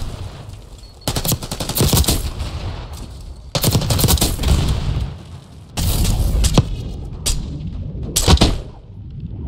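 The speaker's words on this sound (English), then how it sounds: "Just casually shot some bullets quick." Gunfire in Black Ops 6 comes in three loud, rapid automatic bursts separated by brief gaps, followed by a few sharp single shots.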